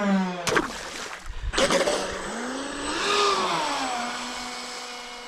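A Proboat Recoil RC boat with Sonicwake trim tabs and three-blade props whines at half throttle, its motor pitch rising and falling as it skims the water, mid-distance and steady with a couple of sharp splashy bursts early on.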